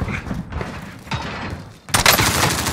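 Gunfire in a Call of Duty: Modern Warfare match, with dense, rapid shots and thuds in close, loud, repeated bursts that swell sharply toward the end.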